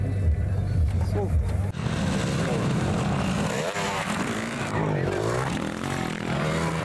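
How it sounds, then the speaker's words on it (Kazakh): Motorcycles racing on an off-road track at a rough-terrain vehicle competition, engines droning and revving continuously and loudly beneath a voice talking throughout. "Жарыс жолына мотоциклдер де шықты."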